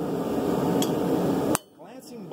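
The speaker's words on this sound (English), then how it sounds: "will hit my hammer directly down right here." A hammer strikes a blade on an anvil during forging, giving one sharp metallic hit with a short ringing tail after a stretch of steady background noise.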